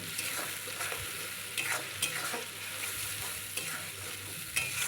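Spice paste frying in oil in a pan for a rohu (katla) fish curry, a steady close sizzle with scraping stirs breaking through at intervals, no voices.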